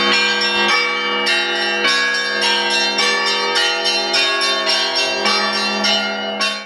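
Church bells ring loud and continuously at the close of an Orthodox religious procession in Almetyevsk, with rich overlapping tolls and regular strikes sounding throughout.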